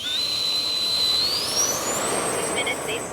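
Freewing F-22 Raptor 70mm model jet spooling up on a maiden flight, a high whining electric ducted fan rising steadily in pitch over a continuous rushing roar, loud and close.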